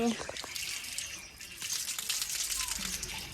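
Water runs steadily from a tap in a park with a bright hiss, punctuated by faint clinks and splashes of a vessel filling.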